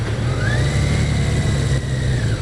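A Yamaha XJ650 Maxim motorcycle engine, just back from carburetor work, runs with a steady close mid-pitched drone and a slight rising whine as it pulls during a ride.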